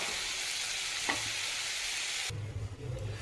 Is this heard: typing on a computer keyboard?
no